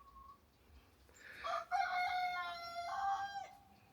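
A rooster crows once in the early morning, a loud drawn-out cock-a-doodle-doo rising and holding for about two seconds against a quiet outdoor background with no talking.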